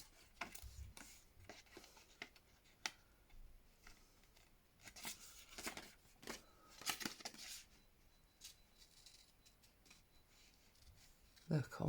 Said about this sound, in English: So I'm going to fussy cut all of it.